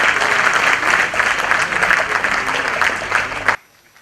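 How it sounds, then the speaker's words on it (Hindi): An audience applauds after a stage play, dense sustained clapping from a full room that ends abruptly near the end, with faint voices mixed in. "जोरदार तालियां"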